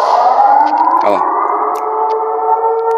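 A loud, steady wailing Siren Head monster siren from a video game drones with a brief distorted glitch partway through, sounding eerie and synthetic.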